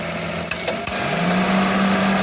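Daihatsu Hijet S210P kei truck engine idling close by; a few sharp clicks come as the AC compressor clutch engages, then the engine note drops and settles into a steady, loaded hum.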